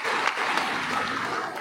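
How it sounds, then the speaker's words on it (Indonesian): A crowd applauding at an election campaign launch rally in Tenom, a dense and steady burst of clapping from many people, loud and continuous. "Berikan tepukan kepada semua dulu."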